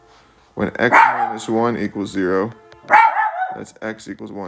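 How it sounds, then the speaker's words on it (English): A dog barks in the background, its barks mixed into a person's steady, close talking that continues throughout. "Sorry about the barking."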